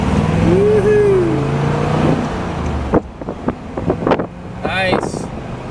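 1957 Ford Thunderbird on steel belted radial wide whitewall tyres driving down a highway, giving a steady engine and road rumble with wind noise, then bumpier interior sounds and a passenger's voice.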